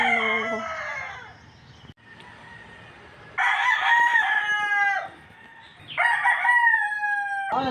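Roosters crow loudly nearby, three long drawn-out calls, with softer clucking from hens in the pauses between.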